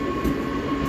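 Local train pulling through a station in Bangalore, a steady close rumble of rolling carriages with a bright squealing tone held throughout, loud and continuous with no voices.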